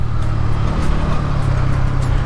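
A Bajaj Pulsar N150 motorcycle engine running low on fuel while riding in the city, a steady, slightly uneven drone heard up close from the rider's position, with no talking.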